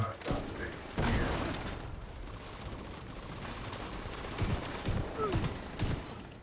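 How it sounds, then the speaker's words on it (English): A grenade launcher fires in a video game, heard as dense repeated bursts and thumps over clattering mechanical noise at moderate loudness. "Grenade launcher."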